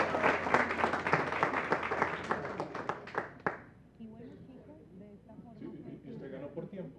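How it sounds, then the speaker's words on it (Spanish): Audience applauding prize winners at a lecture gathering, a brisk burst of clapping for a few seconds that stops abruptly, followed by someone talking. "Un aplauso para ellos,"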